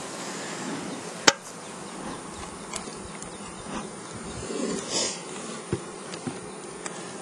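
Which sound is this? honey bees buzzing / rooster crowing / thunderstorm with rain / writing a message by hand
honey bees buzzing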